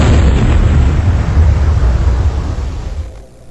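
A simulated cannon fires a cannonball with a single loud, broad boom that rumbles on and slowly fades away over a few seconds.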